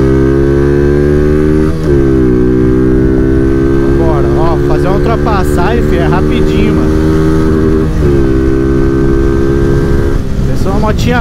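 Honda Fan 160 motorcycle, a 2016 model, engine droning steadily under riding, pitch rising and dropping with gear changes during an overtake, loud and continuous beneath a rider talking.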